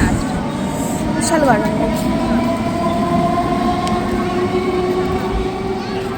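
A train rumbles loudly and steadily, with rail noise and a brief squeal, and muffled voices underneath.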